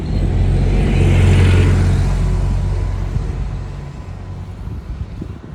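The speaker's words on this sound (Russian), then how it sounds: "сейчас автобус проедет" A bus drives past along a roadside, its engine a loud, close rumble with wind roar that swells and then slowly fades as it moves away.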